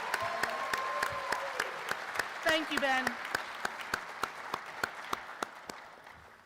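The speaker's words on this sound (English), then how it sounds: "So let's give her a round of applause." Applause at a student awards ceremony, a thin scattering of claps that starts faint and grows sharper and more spaced, with a brief spoken thanks over it partway through.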